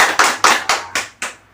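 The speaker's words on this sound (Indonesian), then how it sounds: "Tepuk tangan dong" Five loud, separate group hand claps in an evenly spaced rhythm from participants in a training class, each sharp burst decaying before the next, with no talk.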